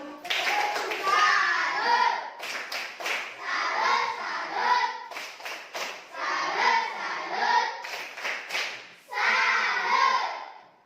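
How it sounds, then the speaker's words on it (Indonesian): Classroom of students giving a patterned rhythmic clapping salute to group 1, several bursts of hand claps in bouncy bursts separated by short pauses, moderately close, with children's voices mixed in. "Mari kita memberikan tepuk salut untuk kelompok 1."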